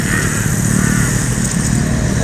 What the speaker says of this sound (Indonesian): Ini dari arah tol ada bus masuk.